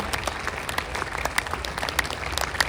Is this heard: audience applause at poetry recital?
yes